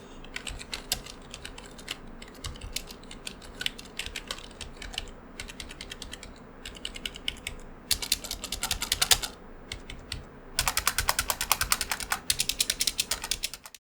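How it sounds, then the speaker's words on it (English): Rapid typing clatters steadily on a TtEsports Commander Pro gaming keyboard with membrane rubber-dome switches, close and alone, with dense irregular keystrokes and a few brief pauses before louder, busier bursts near the end. "Here is of course the typing test."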